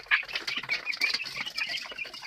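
Young chicks around 19 days old chirp and cheep busily in a brooder, a dense close chorus of high peeps with a few wing flutters.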